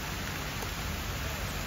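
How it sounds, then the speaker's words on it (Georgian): Steady rain with wind during a small storm on a coast in Thailand, a continuous even hiss of falling rain heard up close with no talk. "პატარა შტორმია. წვიმა, ქარი"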